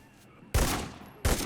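Two loud gunshots from the video game Arena Breakout ring out close together, each a sharp, heavy blast with a short decaying tail, and no talk is heard.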